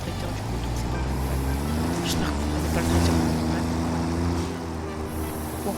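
A tractor engine in the video game Satisfactory gives a steady, low mechanical drone that swells slightly midway, with a voice talking over it throughout.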